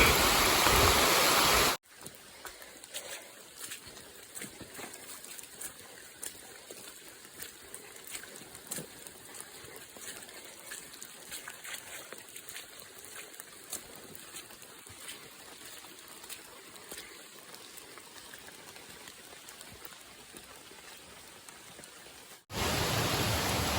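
Heavy rain falls steadily on a hiking trail in the foothills, a dense, even hiss with scattered louder drops that holds throughout with no voices.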